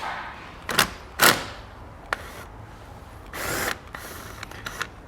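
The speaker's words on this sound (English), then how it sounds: "So we'll remove this nut, grab our 10mm socket to do so." A 10mm socket works a nut loose during a trailer brake controller installation on a vehicle, giving several short, sharp mechanical whirring and ratcheting bursts separated by quiet pauses.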